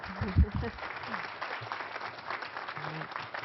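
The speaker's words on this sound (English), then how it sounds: "Let's give them a big round of applause" Audience applause for three panelists at a policy summit on Canada's labour market, a moderate wash of clapping that swells briefly and then carries on steadily, with some low voice sounds mixed in.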